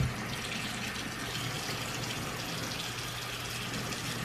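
Tap water runs steadily and continuously from a faucet, a constant broadband rush with no talk over it.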